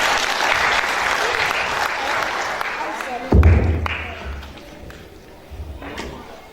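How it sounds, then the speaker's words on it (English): A crowd at a community event claps steadily for a few seconds, then a loud thump cuts in and the applause fades out, leaving scattered low knocks and faint voices. "Can we all just give them a round of applause"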